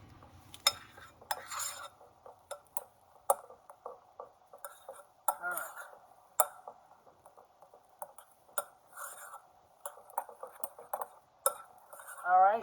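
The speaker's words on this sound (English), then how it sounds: "Now I'm going to stir that in because I don't think I really want to use the mixer anymore." Almond extract being stirred by hand into a wedding cake ice cream base, giving a string of light clinks and scrapes of a utensil against a bowl, close and irregular, with a voice talking over parts of it.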